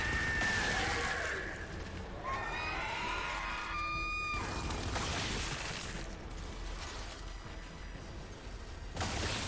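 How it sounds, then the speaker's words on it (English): Creatures screech in the dark exhaust tunnel of the video game Gears of War 5: sharp, rising cries stand out for a few seconds over a constant roar of game ambience and effects, with brief bursts. "The screeching, though."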